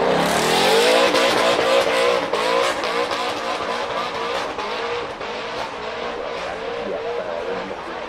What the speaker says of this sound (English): Watching a city car with the voice of a Vantage scream up the hill climb was surreal.